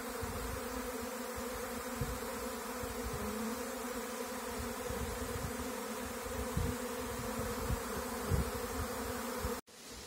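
Bees settle into a new Kenyan top-bar hive with a dense, continuous buzzing drone, close and steady throughout, with a few soft knocks beneath it.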